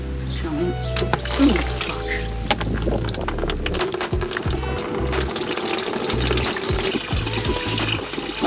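Coolant gushes steadily out of a removed oil cooler pipe on a Mk2 Ford Focus ST, a continuous close splashing, pouring rush with a voice talking over it.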